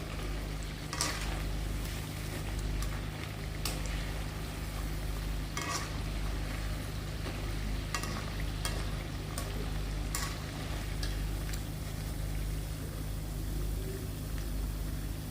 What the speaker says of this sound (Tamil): மீடியம் ஃப்ளேமை விட கொஞ்சம் ஜாஸ்தி தான் வச்சு வறுக்கிறேன், ஃப்ரை பண்ணிகிட்ருக்கேன் இப்போது